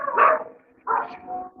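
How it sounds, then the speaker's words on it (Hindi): Somewhere outside, a dog gives two or three short, sharp barks with brief gaps between them, heard alone at moderate volume. "उधर भी बाहर कुत्ता भौंक रहा है"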